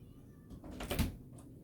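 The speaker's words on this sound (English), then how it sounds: "that's my cat" A black cat gives a single short meow close by, indoors, with faint rustling around it and no one speaking.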